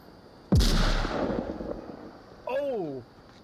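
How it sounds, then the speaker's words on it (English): A frag grenade detonates in the VR shooter Onward during a competitive team match: one sharp, loud blast followed by a decaying rumble, then a voice exclaims shortly after. "An excellent frag grenade."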